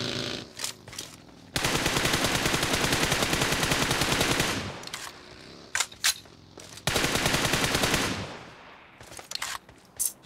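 Automatic rifle fire in the video game PUBG Mobile: two long sustained bursts of rapid shots, each lasting several seconds, separated by scattered single shots and short pauses, loud and close.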